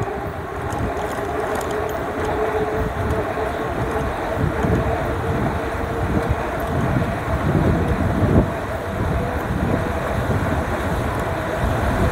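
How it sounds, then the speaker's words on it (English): Strong wind buffets the microphone while riding on a cold day, a constant heavy roar with gusty swells throughout and no voices. "Wind is strong."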